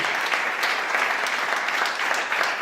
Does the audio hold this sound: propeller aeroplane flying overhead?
no